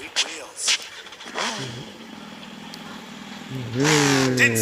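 A motorcycle engine in a video game idles and revs in bursts, rising and falling in pitch, with people talking over it at moments.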